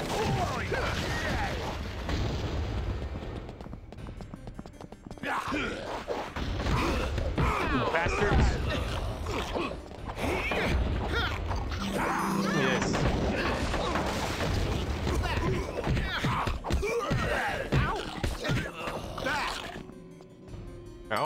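Bombs exploding in the Scooby-Doo! First Fright video game, a chaotic stretch of repeated crashing bangs and rumbling blasts over busy game music, loud and dense throughout.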